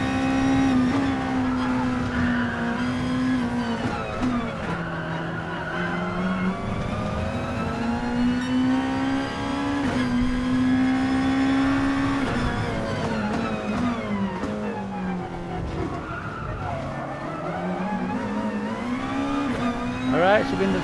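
A race car engine in Gran Turismo Sport at Suzuka Circuit holds a steady high drone, its pitch rising and dipping through gear changes and throttle shifts, loud and continuous for about twenty seconds, with a voice speaking over it.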